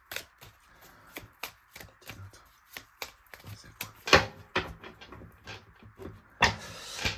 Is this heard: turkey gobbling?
no